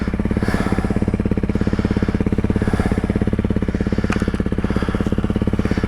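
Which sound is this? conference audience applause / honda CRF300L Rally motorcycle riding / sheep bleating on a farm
honda CRF300L Rally motorcycle riding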